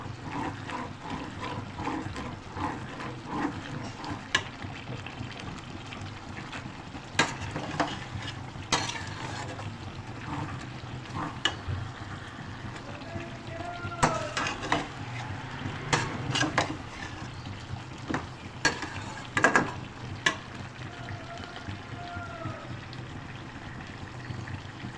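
Chicken gizzards frying with red chili powder and garam masala, a soft continuous sizzle broken by intermittent spoon scrapes and knocks against the pot, close but fairly quiet, no voices.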